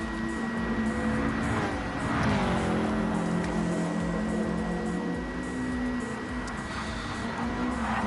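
Touring race cars in a racing game at Suzuka, a steady droning engine whine holding a high pitch with a gentle rise and fall, close and continuous, with no voices.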